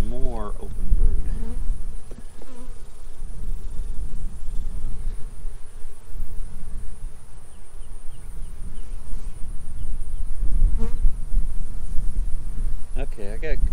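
Honeybees swarm around an open hive frame during a Doolittle-method hive split, a close, continuous buzzing drone with individual bees zipping past the microphone now and then.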